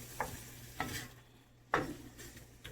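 Chicken karahi with yogurt and fresh coriander is stirred in a pan, with a few distinct scraping strokes of a spoon over a soft sizzle, close and clear.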